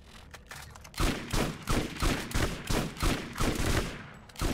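Rapid shotgun fire in the game Borderlands, a tier 5 shotgun with a fatal modifier: a steady run of loud, closely spaced blasts, about seven to eight in under four seconds, with no talk over them.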